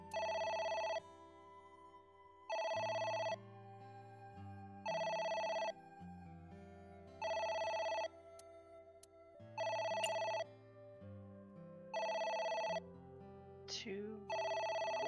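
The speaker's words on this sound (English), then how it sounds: "It's the phone." A telephone rings in the video game AI The Somnium Files, sounding eight times in an even pattern of electronic bursts about every second and a half, with quieter game sounds and low murmuring in the gaps.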